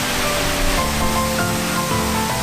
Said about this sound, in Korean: 레바논에서 시작돼 폭포를 이루고 이스라엘로 흘러들어가는 물줄기